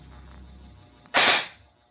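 A Double Bell M4 airsoft rifle, upgraded with an M145 spring, fires a single sharp shot through a chronograph. The crack is loud and close, following a low background hum.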